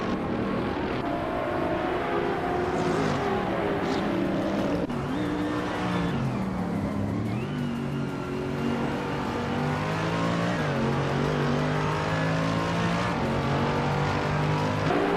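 GT3 race car engines in a racing video game, including a 2011 Chevrolet Camaro GT3, a steady loud engine drone with rising and falling pitch through gear changes over continuous track noise.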